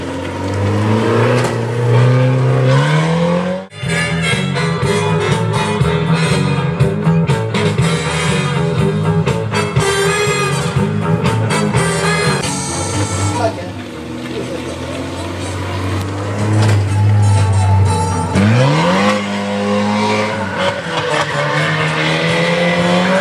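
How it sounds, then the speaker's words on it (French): A stunt race car revs hard and launches off a ramp, its engine roaring loudly and continuously with rising and falling pitch, a brief dip near the start and a fresh surge of acceleration late on. "La voiture sort du tremplin"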